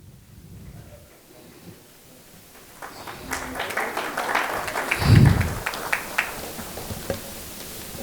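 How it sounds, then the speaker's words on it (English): Conference audience at a seed technology session clapping, starting quietly and swelling into a broad patter of hands after a few seconds, with one low thump midway before the applause gradually fades. "Ladies and gentlemen, can we please keep clapping?"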